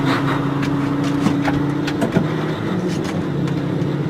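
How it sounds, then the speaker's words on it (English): A tractor's diesel engine starts and chugs steadily nearby, running a Bourgault 7000 air seeder, with a brief knock partway through as the engine note shifts. "We'll start our tractor right now."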